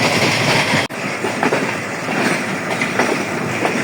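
The Sir Syed Express, a Pakistan Railways train in rain, rolls into Rawalpindi station with a loud, close, continuous rumble and clickety-clack of wheels over rail joints, broken once by a brief dropout.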